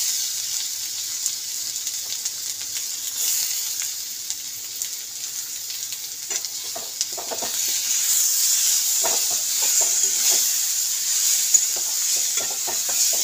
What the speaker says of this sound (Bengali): এই যে হালকা ভাজা হয়ে গেলে টমেটোগুলো দিয়ে দিতে হবে।